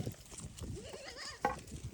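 A goat bleats faintly with a wavering call amid quiet background noise, followed by a short sharper bleat.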